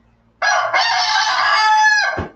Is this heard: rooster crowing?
yes